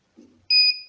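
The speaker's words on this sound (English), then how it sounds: "you can hear the sound of the buzzer" An electronic buzzer on an embedded system running in automatic mode gives one steady, loud, high-pitched tone lasting about half a second, after a brief faint rustle.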